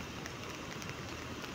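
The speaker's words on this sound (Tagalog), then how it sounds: "Sa lakas ng ulan." Heavy rain pouring down during a storm in Hong Kong, a steady dense hiss of water with no breaks, continuous and fairly loud throughout.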